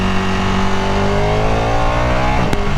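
A Ducati 959 Panigale superbike's engine holds a loud, steady rev that climbs gradually in pitch, then dips sharply near the end with a brief pop, close and continuous with no talk.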